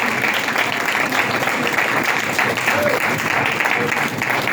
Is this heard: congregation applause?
yes